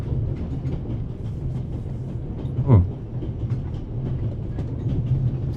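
An Orient Express train runs in a video game, giving a steady rumbling clatter of carriages throughout with a brief louder swell midway. Someone speaks a word over it.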